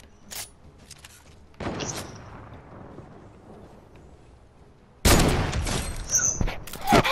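Gunfire rings out in the Fortnite video game: scattered shots early on, then a dense, loud volley of rapid shots near the end, with no speech.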